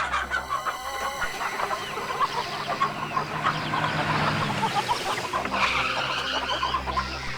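Chickens at a poultry farm cluck and squawk in overlapping bursts, fairly close, with a steady low rumble beneath and no one talking.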